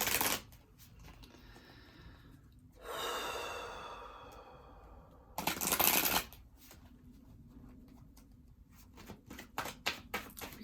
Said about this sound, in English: If you guys don't mind watching the shuffling process